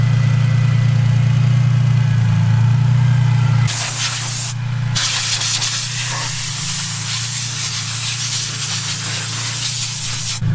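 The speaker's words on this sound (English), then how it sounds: "I got some compressed air right here. I'm just gonna get all the water out of the engine bay" A loud, steady hiss of compressed air blowing water out of a car's engine bay blasts continuously over the engine's idling hum, with a brief pause before the spray resumes.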